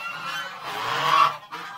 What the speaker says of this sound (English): Oh, little goose.